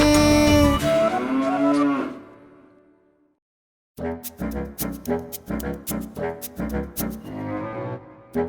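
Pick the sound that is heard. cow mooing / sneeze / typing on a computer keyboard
cow mooing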